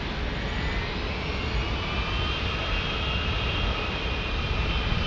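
An American Airlines jet airliner on the runway at San Diego airport gives off a steady, loud broadband engine roar that holds constant for the whole stretch, with no voices.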